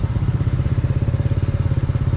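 A motorcycle engine idling close by with a rapid, steady low thumping pulse. The bike has a gear shifting problem.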